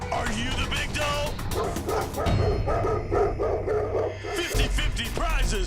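Dogs bark and yip in repeated bursts at a biker rally, mixed with music and voices talking over the noise.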